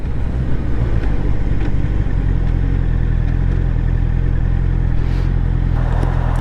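2024 Honda CBR650R E-Clutch motorcycle cruising at motorway speed, with a loud, constant engine drone and heavy wind roar from close by, no talking.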